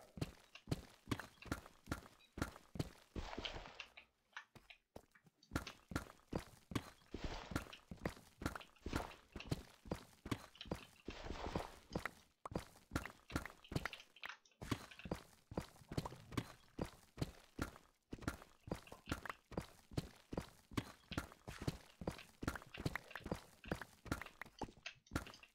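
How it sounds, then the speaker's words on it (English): Minecraft footsteps in an underground hardcore world, a long run of crisp, evenly paced steps close by, broken by a few short pauses. "I thought I heard other footsteps."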